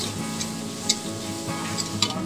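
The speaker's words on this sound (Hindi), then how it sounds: "इसको हम थोड़ा भूनने के बाद हम डालेंगे थोड़ा सा कटा हुआ पनीर" Boiled vegetables and chopped paneer sizzle in a pan while cooked for veg biryani, a soft, steady fizz broken by a few sharp clicks of stirring, close up and without talk.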